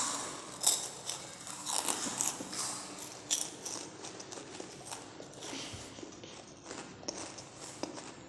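Two sisters bite into crunchy bat snacks in a panipuri eating challenge, producing a run of close, irregular crisp crunches and chewing sounds, with brief sharp bites scattered throughout and no talk.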